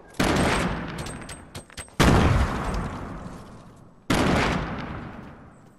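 Video game gunfire crackles in three loud, close bursts of rapid shots, each decaying into a reverberant tail, with a brief gap between volleys and no voices heard.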